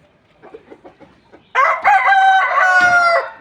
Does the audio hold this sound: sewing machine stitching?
no